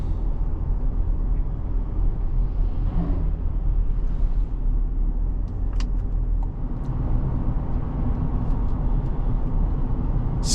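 Turbocharged 2026 Chevrolet Colorado pickup heard from inside the cab while driving, a steady loud engine and road rumble with faint whistling turbo tones and occasional small clicks.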